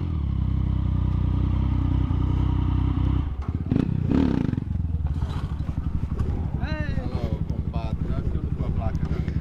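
Friends' motorcycle engine revving close by, a steady loud drone that surges sharply around the middle, with people talking and exclaiming over it throughout.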